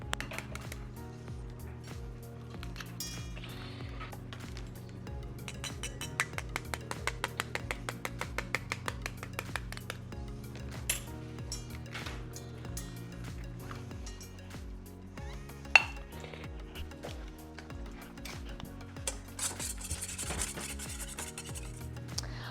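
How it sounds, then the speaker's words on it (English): Two eggs whisked in a bowl for blueberry muffin batter, a quiet rapid scraping and rubbing with rhythmic ticks of the whisk against the bowl, steady throughout with a faint music bed underneath. "Now I'm going to whisk 2 eggs until it is smooth"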